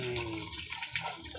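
A short splash of water is poured into a pot for tinola, a brief close liquid gush that tapers off within a second or so.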